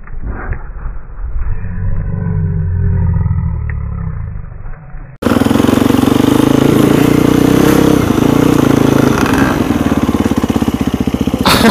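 A dirt bike engine runs loud and close in a steady rough roar, first muffled and band-limited, then abruptly full and harsh as it keeps revving without pause.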